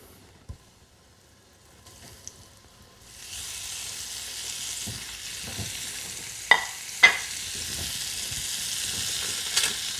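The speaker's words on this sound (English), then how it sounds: "Okay, now it's time to cook the meatballs." Lamb meatballs land in a pan of vegetable oil: a few soft knocks, then a steady sizzle that builds and holds, broken by two sharp pops and a later crackle, close and fairly loud.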